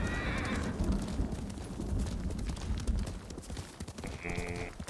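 A horse in Ghost of Tsushima is ridden with a dense, close run of hoofbeats, a whinny near the start and another near the end.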